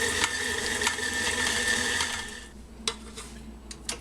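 Electric mixer creaming butter and sugar with caramel sauce for salted caramel cheesecake bars, a steady whirring drone close up that cuts out halfway, followed by a few faint clinks and scrapes.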